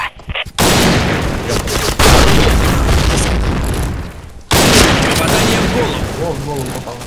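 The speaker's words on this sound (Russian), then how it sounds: "Граната!" Grenade explosions in the shooter game Point Blank, several loud booming blasts with gunfire between them, while a player talks over the action.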